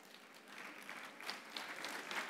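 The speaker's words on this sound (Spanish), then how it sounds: "Acá abajo aplauden y arriba no." An audience at a church talk applauds from below, a faint, quiet patter of many hands with a few sharper claps rising near the end, heard alone without talk.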